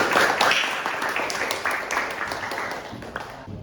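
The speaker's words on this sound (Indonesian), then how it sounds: "Tepuk tangan." A classroom of students claps together after a teacher's prompt, a dense patter of hands that starts strong and slowly thins out over a few seconds.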